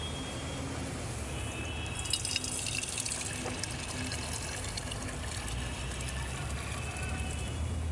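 Treated water from a public toilet's biogas digester trickles and splashes in a steady stream, a constant close wash of gurgling with faint background voices.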